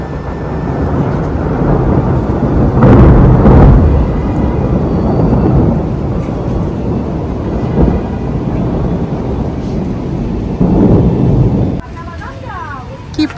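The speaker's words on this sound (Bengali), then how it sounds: "কি পরিমাণে মেঘটা ডাকছে তোমরা শুনতে পাচ্ছ" Thunder rumbles during a rainstorm, with deep, loud rolling booms rising and fading over steady rain-like background noise. Two heavier swells stand out.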